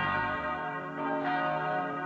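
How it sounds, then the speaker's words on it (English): Large church bells of the Church of the Holy Sepulchre in Jerusalem ring out on Palm Sunday with a rich, sustained metallic tone, overlapping strikes blending into a continuous resonant peal. "Bells called the faithful to Palm Sunday prayers at the Church of the Holy Sepulchre"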